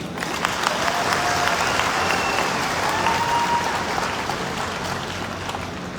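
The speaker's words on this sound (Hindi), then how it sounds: "तो ऐसी इंडस्ट्री के ऊपर जोरदार ताली होनी चाहिए।" Hall audience at a business motivational talk gives loud, sustained applause, a dense, even roar of many clapping hands that holds steady throughout and fades slightly near the end.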